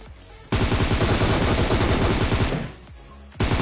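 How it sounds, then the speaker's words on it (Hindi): Heavy automatic gunfire in the mobile battle royale game PUBG Mobile rattles out in a loud, sustained burst of rapid shots, then a short pause before firing resumes. "पीछे से फायरिंग पड़ने लगते हैं, वो भी बहुत तगड़े वाली"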